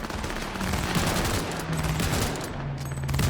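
Firefight in Cyberpunk 2077 with dense, continuous bursts of automatic gunfire at close range, layered shots rattling almost without pause over a low rumbling backdrop.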